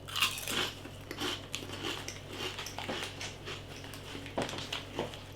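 Lidl Snaktastic potato crisps are crunched and chewed close up, with quiet, irregular crackling bites repeating for several seconds.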